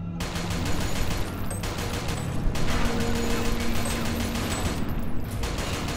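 Dense gunfire in the video game Inversion, a loud continuous barrage of rapid shots with mechanical clatter running throughout, no voices.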